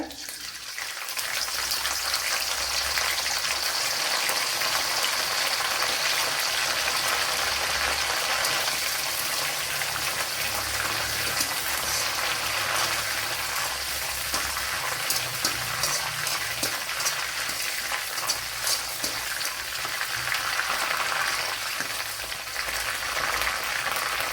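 Curry leaves frying in hot oil in a pan, a loud, dense, unbroken sizzle crackling steadily throughout.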